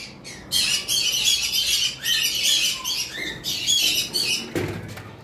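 Sun conure parrots shrieking in harsh, piercing bursts, several loud squawks in close succession with brief pauses between, near and prominent, with a rustle or clatter near the end.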